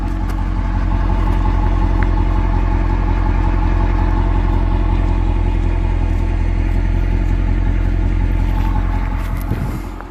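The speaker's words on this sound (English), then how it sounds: "The car's idling right now. It's hardly off from stock." A modified Mercedes E55 AMG with an aftermarket exhaust idles close by, a loud, steady deep rumble with a fine rapid pulse that holds even for about ten seconds, without any talking.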